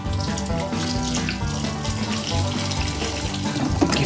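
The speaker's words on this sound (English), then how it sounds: "So we're going to add some warm water." Warm water pours steadily into crushed olive paste for homemade olive oil, a continuous close trickle and splash lasting about four seconds with no talking.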